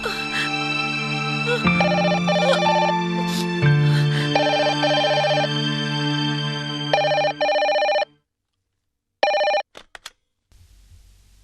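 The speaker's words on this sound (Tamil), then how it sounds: "பாத்தியா, மணி அடிக்குது." A home telephone rings in a drama scene, sounding as a loud electronic warbling ring in repeated bursts, close and clear, then stopping abruptly before one more short burst and quiet room tone.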